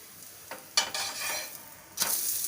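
A poha, potato and spring onion paratha sizzles on a hot pan, with soft frying hiss punctuated by a few louder crackling bursts as it is pressed and turned.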